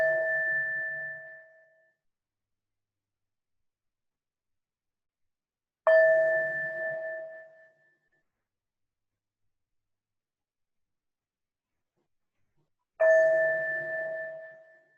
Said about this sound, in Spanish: Y ahora les voy a tocar una campana 3 veces.